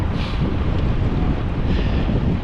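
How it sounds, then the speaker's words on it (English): Steady, loud wind roars across the microphone throughout, a cold headwind buffeting a rider on a cross-country ride, with broadband rushing noise and no talk. "Riding straight into a 15-mile-an-hour headwind this morning."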